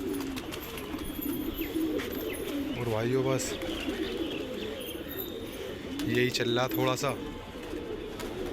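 Pigeons coo in low, throaty bursts twice, among faint chirps and outdoor background noise, while someone talks over them.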